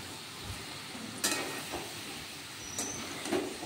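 Fried potato and jackfruit go into a spiced masala in a pan for an onion-free jackfruit biryani, with a few sharp clatters and scrapes of stirring over a quiet background sizzle.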